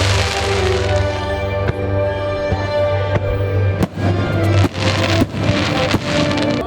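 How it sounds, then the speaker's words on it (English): Fireworks bursting over Disney World's Magic Kingdom, a string of sharp cracks and booms over a loud, dense crowd-and-music bed, with several heavy bangs near the end. "There's already fireworks in the sky."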